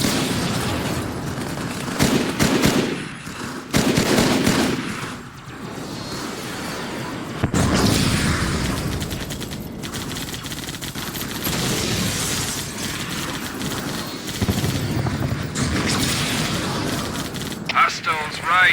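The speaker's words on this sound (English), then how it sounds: "I've got hostile artillery 200 meters northeast of my position" Artillery and gunfire in a Halo 2 battle: heavy booms and rattling bursts of shots pound throughout, loud and close, with sudden blasts mixed among voices talking over the fighting.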